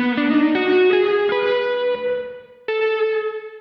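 An electric guitar played through an ART SGE multi-effects rack unit on a Jazz Hall preset with light distortion rings out in sustained chords with reverb and chorus, a second strum cutting in near the end.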